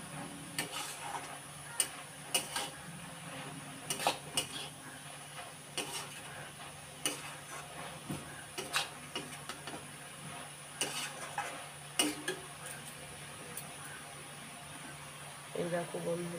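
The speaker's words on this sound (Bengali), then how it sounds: "আমার তরকারিটাকে নেড়ে দিই" Spoon scraping and tapping around a pot of thick vegetable curry, giving scattered clinks and knocks over a low, steady background, with talk in between.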